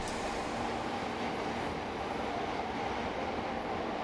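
A Chicago Red Line subway train rumbles steadily with dense rail noise and a faint high squeal, loud and continuous, with no voices.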